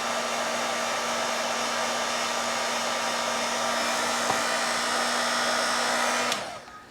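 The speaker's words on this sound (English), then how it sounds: "Slip up the little shrink tubing, hit it with the heat gun" Heat gun blowing on heat-shrink tubing over a wire splice, a steady loud whooshing fan roar with a faint whine, close by, running for several seconds before shutting off and fading.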